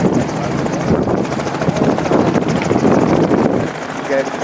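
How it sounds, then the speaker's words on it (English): Helicopter at an air show coming in to land, a loud continuous rotor thrum with wind buffeting the microphone, close and steady throughout, with voices faintly underneath. "So they got a couple helicopters out there."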